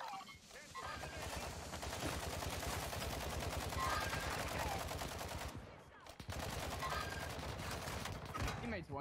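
Rapid automatic gunfire from a Kastov 762 rifle in Warzone 2 on Ashika Island rattles in sustained bursts for several seconds, breaks off briefly and then resumes, with a player talking over it.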